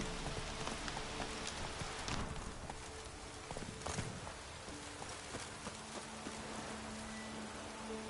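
Steady rain pattering in a video game set in a valley, a continuous wash of falling drops with faint clip-clop hoofbeats and a low tonal hum underneath, no speech.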